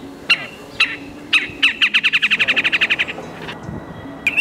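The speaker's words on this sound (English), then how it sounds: "I can play different calls to bring in birds." Songbird calls in Central Park in New York: a few sharp separate chirps, then a fast, even trill of about a dozen bright notes, with a final chirp after a short pause, clear and fairly close.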